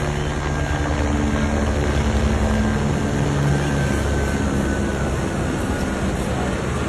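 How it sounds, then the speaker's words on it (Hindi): A yellow passenger helicopter flies near the Vaishno Devi shrine among the clouds, its engine and rotor making a steady, loud, unbroken drone throughout with no talking. "येलो हेलीकॉप्टर है,"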